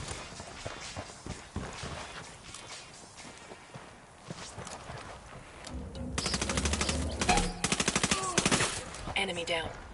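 Rapid bursts of submachine gun fire in a PS4 shooter game, loud and dense with repeated volleys near the end over a busy mix of game effects.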